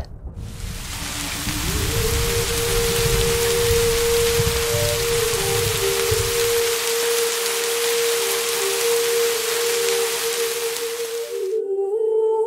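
Heavy rain pours down steadily and loudly, a dense unbroken wash, while a sustained low musical drone runs underneath.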